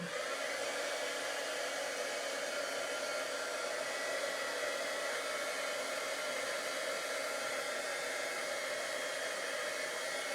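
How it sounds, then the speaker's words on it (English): A heat gun blows steadily over a stamped paper card, a constant even whoosh of air and fan whine that stays level and fairly close for the whole stretch, with no talking. "And I'm just going to hit this with a heat gun for a second here."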